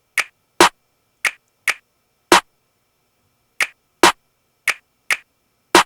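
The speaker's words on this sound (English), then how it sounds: "I added in this other snare," Finger snaps added as a snare layer in a drum mix sound alone, sharp and dry, in an evenly spaced rhythm with a short gap in the middle.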